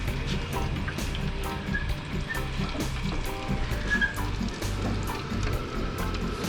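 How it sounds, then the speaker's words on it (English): Spanish mackerel fillets fry in a pan with a steady, dense sizzle and crackle, close and even throughout with occasional sharper pops. "We cleaned them up and we're frying them up for dinner."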